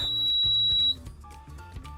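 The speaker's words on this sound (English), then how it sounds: "Then you hit reset. It'll beep." A fire alarm panel beeps on reset: one steady high-pitched beep lasting about a second, followed by faint background clatter.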